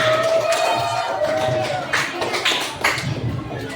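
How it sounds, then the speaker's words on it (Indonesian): A classroom of students claps together, a burst of scattered hand claps over some background voices and room noise. "Kasih tepuk tangan untuk kita semua."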